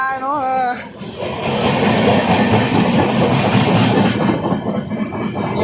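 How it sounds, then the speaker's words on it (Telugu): A MEMU inter-city express train pulls away with a loud steady rumble and rhythmic clatter of wheels over rail joints, a brief horn-like tone at the start, and voices faintly under the noise. "మనోళ్ళు ట్రైన్ అయితే బయలుదేరిపోయింది"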